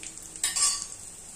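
Onions sautéing in a pan with turmeric and spices make a soft sizzle, with a brief scrape of a stirring utensil midway through this short moment.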